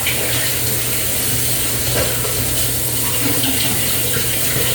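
Tap water runs steadily over tomatoes being washed at a kitchen sink while a Cameroonian dish is prepared, a continuous close rushing splash with no talk.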